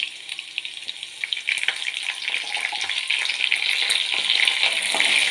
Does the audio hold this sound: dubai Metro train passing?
no